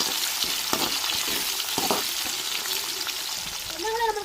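Onions and curry leaves sauté in hot oil in a pan, a constant crackling sizzle with occasional stirring scrapes, close and moderately loud, and a faint voice briefly at the end.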